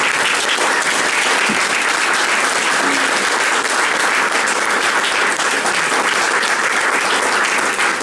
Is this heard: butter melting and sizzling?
no